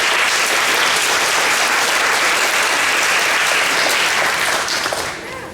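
Steady, dense applause from a large audience at a school moving-up ceremony, thanking maintenance and office staff, sustained at full strength before tapering slightly at the end.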